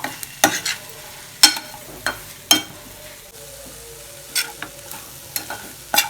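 Radish poriyal being stirred and fried in a pan, with a spatula scraping and knocking in irregular bursts over a low, continuous sizzle, close and fairly loud.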